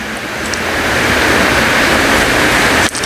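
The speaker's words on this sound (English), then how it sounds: "it is raining right now in the Dominican Republic" Rain pours down close to a beach in the Dominican Republic, a loud, steady rushing hiss that holds evenly before dipping briefly near the end.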